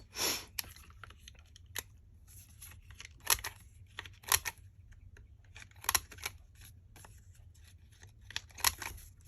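Scissors trim the corners of paper for a travelers notebook craft project, making a scattered series of quiet, sharp snips and rustles against a near-silent room.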